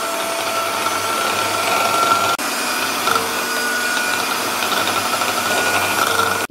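Electric hand beater whirring steadily through sponge cake batter, a continuous close motor drone with a faint rattle, one brief dip partway, no talking.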